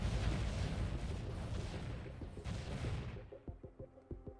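Detonated charges scuttle a ship in the Stormworks game, a loud, dense roaring blast that rumbles for about three seconds, then breaks into scattered thuds and crackling debris impacts as it fades.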